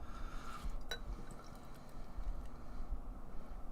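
American IPA from Phase Three Brewing pours from a can or bottle into a glass, giving a soft, steady liquid fill with faint fizz and a brief clink near the start, quiet and close throughout.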